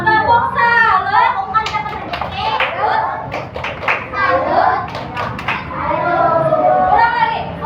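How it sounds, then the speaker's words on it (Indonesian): Second-grade children clap a rhythmic 'tepuk salut' class clap in a classroom, with sharp hand claps in quick patterned bursts between children's chanting voices and a teacher's talk. "Ulang lagi. Sekali lagi. Tepuk salut."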